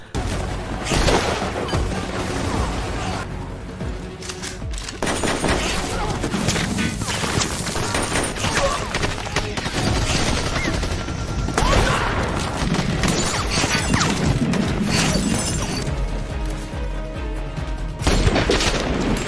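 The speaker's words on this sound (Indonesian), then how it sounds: "Di rumah, Andre mencoba membidik dan melumpuhkan musuh." Film battle with a sniper holding off enemies, dense gunfire and crashing impacts running loud and nearly unbroken, layered with booms and a heavy soundtrack.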